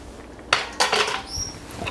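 Spinach is tossed into fettuccine in a pan, with a few close clattering utensil scrapes and soft rustling bursts, then quieter handling.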